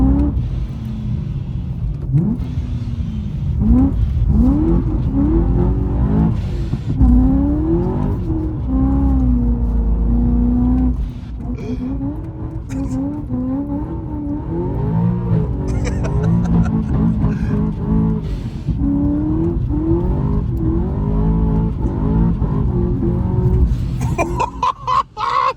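A BMW M3 is driven hard with a loud, steady engine note that rises and falls through gear changes, and tires scrape and squeal in every corner as the car pushes through the bends.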